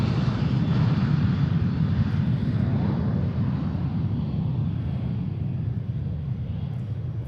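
Cessna Citation private jet at Boeing Field, a steady, loud engine roar that fills the scene evenly from start to finish with no voices over it, fading only slightly toward the end.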